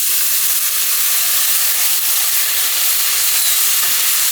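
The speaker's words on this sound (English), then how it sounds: "can you hear that sizzle?" Onions sizzling loudly in a pan after a splash of water, a dense steady crackling hiss close by that carries on evenly without talk.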